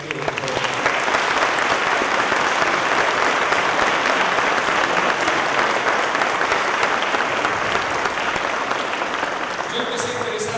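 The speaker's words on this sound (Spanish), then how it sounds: "Un aplauso para Arturo." Sustained, loud applause from a large conference crowd for Arturo López Dávalos at a physics outreach opening lecture, a thick unbroken wash of clapping lasting about ten seconds.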